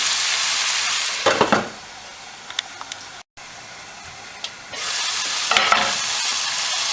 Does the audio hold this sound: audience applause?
no